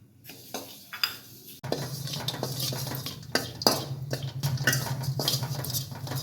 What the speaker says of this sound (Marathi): आता खसखस भाजून घ्यायचं